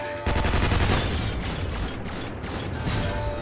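Turret gunfire in the video game Legion Rising: a loud, sustained stream of rapid shots with a dense mechanical rattle, running almost unbroken and close up with no voices over it.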